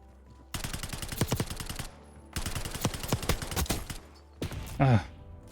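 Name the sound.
sniper rifle shot in video game Black Ops 6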